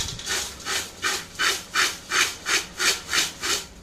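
Fried peanuts, dal, curry leaves and raisins being stirred into corn poha chivda make a rhythmic dry scraping and rustling, about nine even strokes at a steady pace, close and moderately loud, with no voices.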